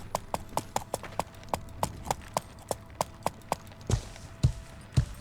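Steady, evenly spaced hoofbeats of a horse walking in Life is Feudal, crisp and close, followed by a few heavier, slower thuds near the end.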